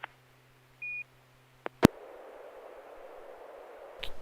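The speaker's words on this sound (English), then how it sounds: "it keys up the mic and plays the ARDF tones as well as a CW station identification" Baofeng handheld transmitter keyed up for amateur radio direction finding, sending a short steady tone, brief clicks and beeps, then a sharp key-up burst and a hissing open channel with a faint tone rising near the end.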